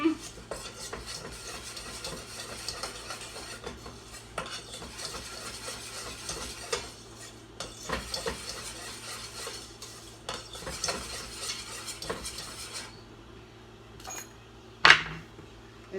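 A spoon scraping and clinking in a pot of plant-based kohlrabi stew, irregular stirring taps and scrapes over a low steady hum, ending with a sharper clank near the close.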